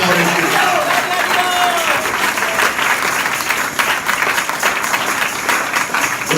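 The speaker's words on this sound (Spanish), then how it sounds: "Oh, un aplauso fuerte para el Señor." A church congregation breaks into loud, sustained applause, steady dense clapping filling the room for several seconds, with voices mixed in.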